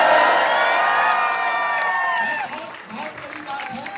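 An audience at a song launch event at ICS Sonipat claps and cheers loudly with whoops and children's shouts, the roar strongest at first and gradually thinning out, with voices mixed into the crowd noise.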